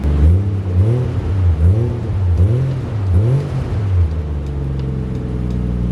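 Toyota JZX100 fitted with an HKS Hi-Power exhaust blips its engine four times in a row, each rev rising and falling sharply, then settles into a smooth, steady idle close by.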